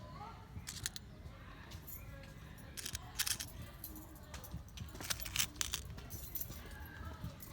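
Metal washers being rummaged through by hand while working on a Yamaha Cygnus 125 X scooter: soft, scattered metallic clinks and jangles in small clusters, fairly faint, with no talking.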